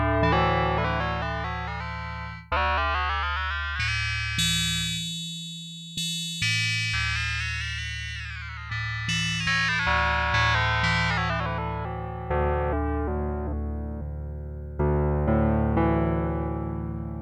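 A Yamaha DX5 vintage FM synthesizer plays a sustained patch with a single parameter altered, producing bright, rich layered chords and bass notes that shift through a series of changes with a buzzy, effected timbre, with no voices present.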